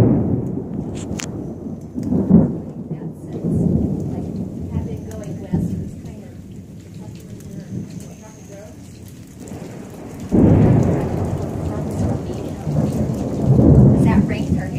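Heavy rain pours steadily during a thunderstorm over Lake Heritage, with loud rolling thunder surging in waves, near and full, while voices talk faintly beneath the downpour.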